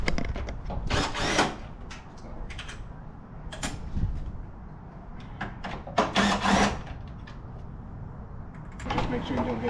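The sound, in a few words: power tool removing bumper bolts on 1995 Chevrolet Silverado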